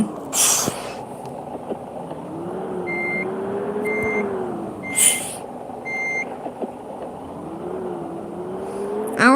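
A bus in Bus Simulator reverses, sending out a steady series of regular high warning beeps over a low idling engine hum. Occasional hissing bursts of air brakes come through, and no one speaks.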